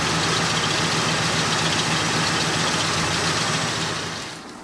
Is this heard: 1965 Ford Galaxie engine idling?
yes